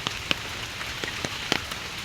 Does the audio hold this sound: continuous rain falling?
yes